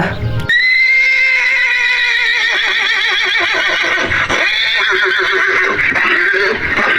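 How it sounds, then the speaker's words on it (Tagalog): A horse neighing loudly and at length, a long quavering whinny that fills several seconds up close and serves as a laugh in a told story. "Dugtong ni Kabayo sabay tawa"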